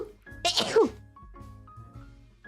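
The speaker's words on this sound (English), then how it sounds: "we need to reset the sneeze counter for this year" A single sharp sneeze bursts out close to the microphone in a quiet room, followed by a brief murmur of voice.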